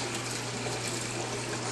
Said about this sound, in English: this pump does is keep the water circulating